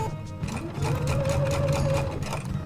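A sewing machine stitches log cabin quilt blocks together, a steady close whirring hum with a rising motor pitch, running continuously without speech.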